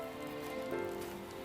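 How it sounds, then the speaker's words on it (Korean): Rain and sleet falling on a winter day, a soft steady patter of drops on surfaces, faint and even for a short stretch with a slight brighter swell midway and no voices. "눈비가 내리는 겨울날"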